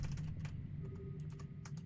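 Quiet, fast keypresses on a computer keyboard, a steady patter of light clicks close to the mic over a low hum, with no talking.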